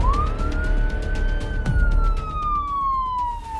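A police car siren in a night-time horror story setting, one long rising and falling wail that sweeps up and slowly back down, loud and close over a low rumbling background.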